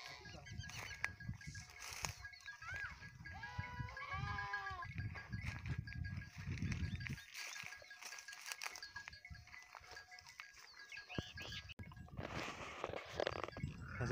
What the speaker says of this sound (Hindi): ये बहुत सारे जानवर खड़े हैं, गाय खड़ी हैं, भेड़े हैं